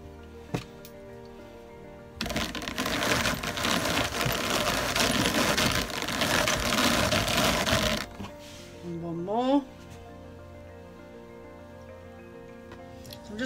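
Grey merino wool fibre layered with silk is carded into a batt, a dense scratchy whirring burst lasting several seconds, followed by quieter moments with a voice-like tone.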